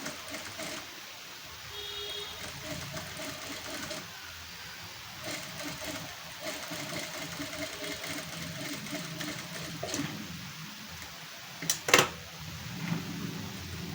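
A sewing machine stitches blouse katori pieces at close range, a steady mechanical running hum with a few faint clicks and a short sharp rattle near the end, with no talking.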